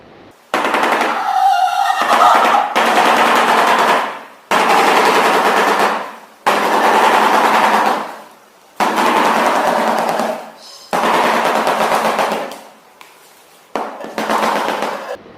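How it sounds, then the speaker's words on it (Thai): Loud rapid rattling bursts from a shoebill stork clattering its bill, like machine-gun fire, come in about six long runs separated by brief silences. "เสียงเวลาพวกมันกระพือที่ปากและคอนะครับยังคล้ายกับเสียงปืนกล"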